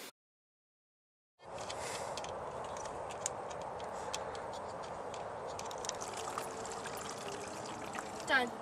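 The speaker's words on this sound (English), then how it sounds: "I'm going to try transferring as much of the water over as I can before the launch tube goes in." Water poured steadily into a water rocket bottle, a continuous close trickling splash with small ticks and clinks, beginning after a brief silence.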